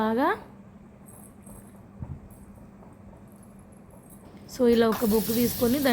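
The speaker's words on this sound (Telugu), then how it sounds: "బాగా కాల్చి ఒక బౌల్లో మనం బటర్ వేసి ఆ బొగ్గును అందులో వేయాలండి" Hot charcoal dropped into a bowl of butter for smoking tandoori chicken gives a faint, steady hiss for a few seconds, with a person talking just before and after.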